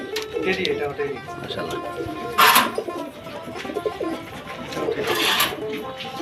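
Pigeons, including a pair of young birds in a loft of high-flyer pigeons, coo in soft repeated calls under a steady background, with a brief louder burst midway and another near the end.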